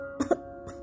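A woman coughs after being choked, an audiobook effect: two or three quick, close, harsh coughs in a short burst, followed by a fainter rasp.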